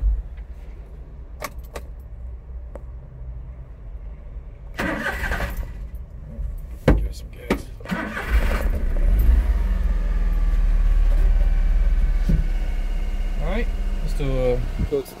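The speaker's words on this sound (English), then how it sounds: "Let's go ahead and do a startup." Keys jingle and rattle near a 1994 Daihatsu Hijet Climber before its cold start: the engine cranks, catches and settles into an even idle hum, with brief voices mixed in around it.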